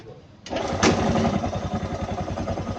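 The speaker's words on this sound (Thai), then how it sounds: "เดี๋ยวเราจะทำการติดเครื่องยนต์ดู" A small engine cranks and catches after a fuel pump replacement, then settles into a fast, buzzing idle that runs steadily and close by.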